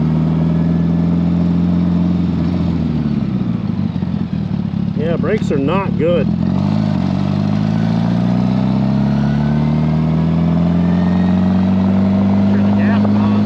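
A 1975 Honda Goldwing motorcycle, sitting unused for 41 years, idles with a steady low engine rumble, revs briefly and then settles back, with someone talking nearby over the running motor.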